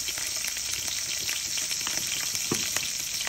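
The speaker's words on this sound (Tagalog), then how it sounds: "Gigisa na natin mga idol." Garlic and onion sautéing in a hot pan: a continuous close sizzle and crackle with light stirring clicks and scrapes, no talk.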